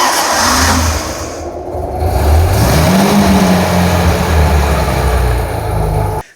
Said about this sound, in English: The V12 is a more revving car.